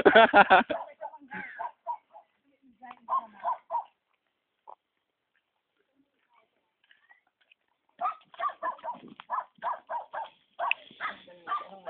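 Imported pet dogs at a mango farm in La Union give short, close barks in quick bursts, with a long quiet gap between the first and second groups.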